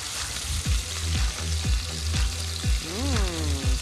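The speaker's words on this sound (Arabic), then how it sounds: "هون بعد بدنا نقلب هول ونتركهم شي 5 مينتس بقلب الطنجره" Greek-style chicken cooks in a pot while it is stirred in a steady rhythm, each stroke a brief scraping swoop over a continuous frying sizzle.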